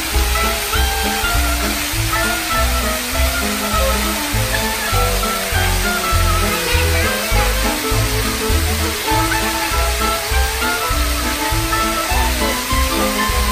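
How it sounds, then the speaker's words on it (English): Children splash and swim in a private villa pool in Bali, a constant, loud wash of churning water with rhythmic low thumps and no clear voices. "let's jump into the pool"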